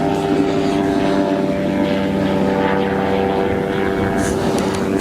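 An ultralight aircraft drones steadily overhead, its buzzing propeller engine loud and constant throughout with no break.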